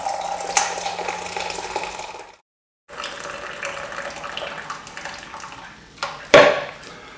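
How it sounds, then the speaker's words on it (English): Water poured from a container into a jug while making a low-calorie shepherd's pie, a steady pouring splash that breaks off briefly, resumes, and ends with a louder slosh near the close. "we'll just top up the jug with the water"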